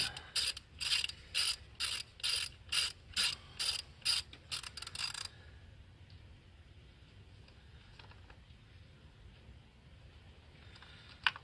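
A socket wrench ratchets on a spark plug in a 2015 Mitsubishi Evo X GSR, about a dozen quick, crisp clicking bursts in a steady rhythm, close by, followed by quiet with faint handling noises.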